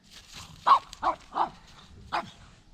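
A dog barks four times in quick, uneven bursts, fairly close, with quiet background between the barks.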